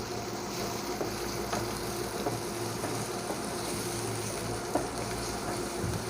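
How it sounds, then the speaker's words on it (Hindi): Vegetables sizzle and crackle steadily in a hot pan, with occasional stirring clicks and a low background hum. "इन सब को थोड़ी देर हम फ्राई कर लेंगे"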